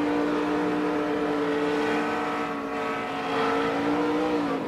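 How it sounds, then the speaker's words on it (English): A NASCAR Sprint Cup stock car at the 2010 Coke 600 in Charlotte screams with a rising engine whine that dips briefly and then resumes, a sustained loud racing tone; no distinct impact stands out. "you can hear the RPM go up there, then you can hear him hit the wall"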